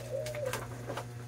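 A small caged bato-bato dove gives soft, low cooing calls over a constant background hum, faint and close in a quiet setting.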